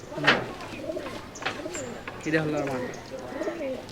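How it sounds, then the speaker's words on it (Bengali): Rajshahi Giribaj flying pigeons coo in soft, repeated throaty phrases, fairly close, with people talking at the same time. "পাম উজালা কবুতর বেশি উঠতে চায় না"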